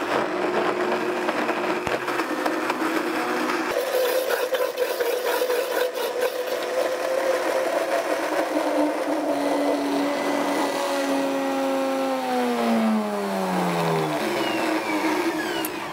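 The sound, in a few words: blender mixing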